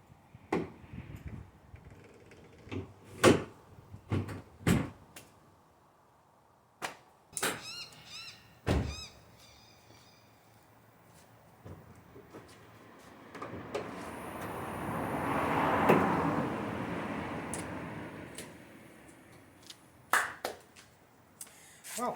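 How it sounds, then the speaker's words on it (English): Bonnet of an MG4 being lowered and shut over a newly fitted frunk with gas struts: a series of sharp clicks and thunks, some rattling, a swelling rush of noise, then more scattered knocks, fairly close. "Let's see if we can close the bonnet now."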